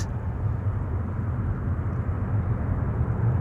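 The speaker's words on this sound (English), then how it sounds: "when an airplane such as this passes by" Delta Airbus A330-300 departing along the Polderbaan at Amsterdam Schiphol, a loud, steady low rumble of jet engine noise filling the whole stretch with no voices.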